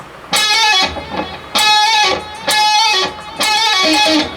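Four bright, loud guitar phrases from a solo, each note sliding quickly between pitches and pulled off into the next, with smooth legato connections.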